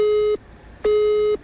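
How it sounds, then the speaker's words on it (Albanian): Telephone busy signal: two identical steady tones, each about half a second, separated by a short silence, clear and close with nothing else heard. "Numri është i zënë."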